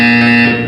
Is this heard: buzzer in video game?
yes